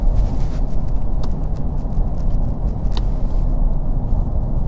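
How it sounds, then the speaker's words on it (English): A car rolls along after its push-button ignition is shut off while driving, leaving a loud, steady road rumble and tyre noise with a few faint clicks and no talk. "The ignition turned off."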